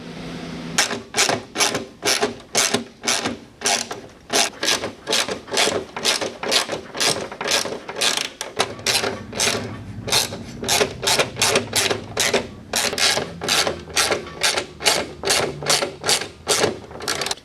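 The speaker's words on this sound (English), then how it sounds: "thread the bolts through that and just kind of have the bolts act like a tap through that last piece of aluminum" Bolts ratcheted through an aluminum chassis brace on a 2005 Ski-doo Summit snowmobile, cutting their own threads; a close, rapid train of sharp mechanical clicks repeats steadily with brief pauses and a change of grip midway.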